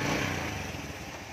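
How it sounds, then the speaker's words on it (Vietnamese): A 2004 Honda Future motorcycle engine runs steadily with a dense, even idle rumble, close and alone. "Mở nổ máy luôn nha."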